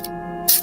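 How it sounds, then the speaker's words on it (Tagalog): Perfume sprayed from a bottle onto a hand and neck, two brief hissing bursts, the second louder and longer, up close over faint steady background hum. "tatry kong mag-spray dito sa kamay at lieg ko."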